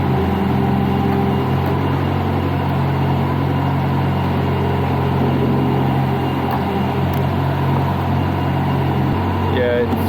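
A Kubota D1505 diesel engine on a Niftylift HR21D access platform runs under load, revving slightly low: a loud, steady, close drone with a dense hum that holds unbroken throughout.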